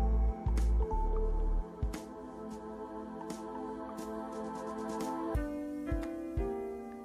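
Melted cream being stirred in a pan with a few spoons of milk added while making ghee and mawa, giving steady wet squishing and dripping sounds with occasional sharper scrapes, close and continuous.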